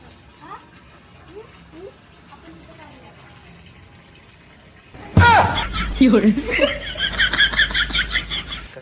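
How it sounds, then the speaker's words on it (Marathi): Quiet room tone gives way to a sudden loud rush of water running onto a coconut tree, flowing steadily while people talk and laugh over it. "नारळाच्या झाडात पाणी सोडले"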